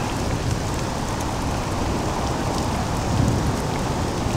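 Steady, dense rain pours down without pause, a constant close hiss of drops striking a surface, with no voices over it.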